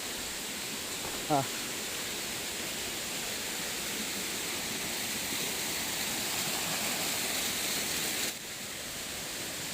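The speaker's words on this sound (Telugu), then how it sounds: "వాటర్ ఫాల్ చూస్తారా" Steady broadband rush of the Rayala Cheruvu waterfall near Tirupati, a constant even roar of falling water that fills the whole stretch, with a brief faint voice early on.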